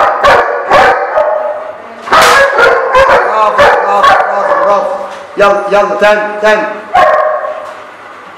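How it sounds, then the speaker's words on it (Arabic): A four-month-old young dog in attack training barks repeatedly in loud, close bursts with short whimpering yips between, while a trainer urges it on with short spoken commands. "وطول ما الكلب بينطرب يبقى بيشتغل يبقى هيشتغل"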